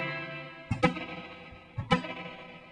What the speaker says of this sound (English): See how you almost hear echoes in there also, as opposed to just the warm wash of a verb.